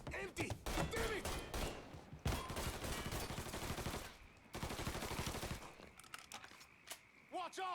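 Gunfire in Mafia 3 comes as rapid, dense bursts of shots, near and loud, with stretches of sustained fire and shouting voices over it.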